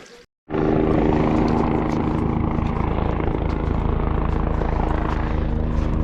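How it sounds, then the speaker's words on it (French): Rescue helicopter flying overhead along a mountain trail: a loud, steady rotor and engine roar with a rapid beating pulse that starts abruptly after a brief quiet moment and holds at close range throughout. "Le bruit d'hélico de secours."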